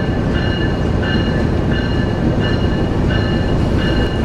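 Green Line Express train at Margalla station, a loud steady rumble of rolling rail cars with faint periodic clicks of wheels over track joints, continuous and close with no talking.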